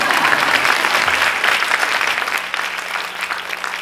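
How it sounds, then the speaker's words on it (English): An audience at a forum breaks into a steady round of applause, dense clapping filling the room from start to finish and easing slightly toward the end. "Can I get a round of applause?"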